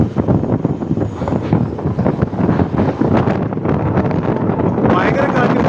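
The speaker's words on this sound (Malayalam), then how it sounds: "ഭയങ്കര കാറ്റ്, ഒരു രക്ഷയില്ലാത്ത കാറ്റ്." Strong wind roars steadily across the microphone aboard a train crossing the Pamban bridge, a loud continuous buffeting rush with people talking underneath throughout.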